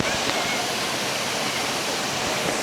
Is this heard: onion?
no